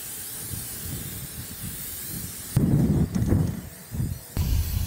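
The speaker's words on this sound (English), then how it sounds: "I take a good quality silicone spray and I basically spray all the hardware" Bursts of hissing silicone aerosol spray on snowmobile hardware and shocks, one long blast then a few shorter pulses, close and loud over faint background noise.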